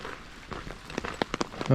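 Rain patters steadily with scattered louder drops tapping nearby, a brief low tone rising at the very end.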